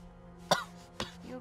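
A man coughs in a short burst, then coughs twice more at even spacing, each cough near and sharp over a low steady hum.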